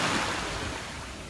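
Ocean waves wash onto a beach near Dunn's River Falls as a steady, broad rush of surf and wind. The wash swells slightly, then eases off over a second, with no speech.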